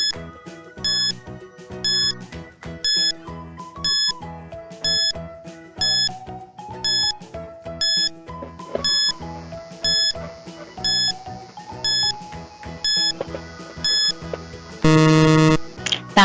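A countdown timer in a children's classroom quiz ticks with regular beeps about every second over a background music bed, then ends in a loud sustained alarm burst near the finish.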